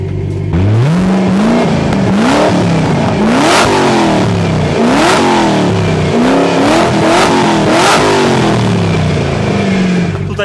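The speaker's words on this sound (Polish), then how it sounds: "Przede wszystkim posłuchajcie, jaka jest praca tego silnika" A 2006 Ford GT engine revs hard again and again, close and loud, each sharp rise in pitch followed by a fall back, with no talking over it.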